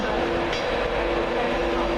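A Virgin Trains East Coast service passes through Doncaster station, its coaches rolling by in a steady, close, continuous rumble with faint rhythmic rail noise.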